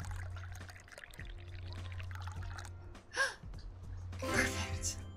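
A drink is poured in the Dave the Diver video game, a couple of brief splashy pouring bursts rising over background music and a voice talking.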